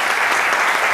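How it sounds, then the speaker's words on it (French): A burst of audience applause welcoming a presenter on climate change solutions, continuous and dense clapping from a crowd, loud and close for a brief moment. "On va l'applaudir."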